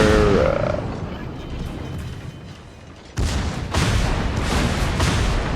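Warship main guns fire in the naval video game World of Warships, a deep booming blast followed by a rumbling roar of continuing gunfire.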